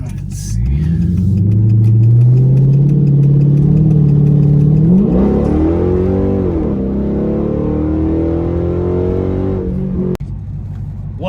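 A car engine on a test drive after a DiabloSport Trinity T2 tuner install: loud, close revving that climbs through a gear, briefly dips at a shift, then pulls again steadily, filling the whole stretch.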